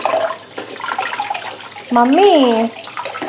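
Tap water runs steadily while eggs are washed in a home kitchen. A voice calls out over the flow partway through.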